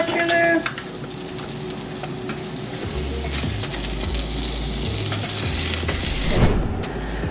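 Salmon frying in a pan, a constant close sizzle with a low droning hum underneath and a few clinks and scrapes toward the end.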